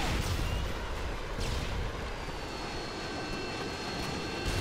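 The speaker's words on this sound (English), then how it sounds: "Is that our Harrier?" Loud roaring jet noise from a Harrier aircraft flying over in a multiplayer video game, a broad rushing engine sweep with sharp bursts of gunfire or explosions early on.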